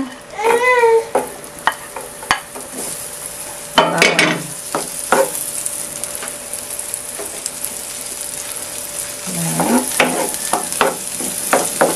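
Butter and garlic sizzle in a pan, a steady frying hiss broken by louder stirring scrapes at intervals, and no one speaks over it.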